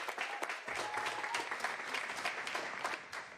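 Audience applause at a New York City public schools education announcement, a steady dense patter of many hands clapping throughout, fairly close and loud, with no talk over it.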